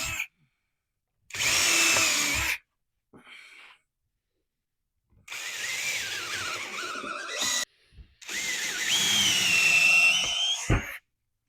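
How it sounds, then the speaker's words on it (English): Three close bursts of a power drill boring pilot holes into cedar, each whining for a second or two, separated by brief silences. "we're just going to drill some pilot holes"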